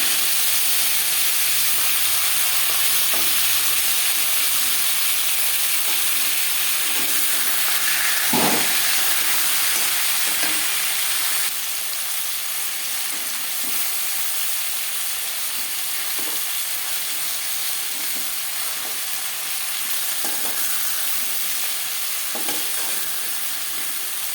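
A fish head sizzles and hisses continuously in hot oil, close up, with occasional crackles and one brief louder clatter partway through; no voices.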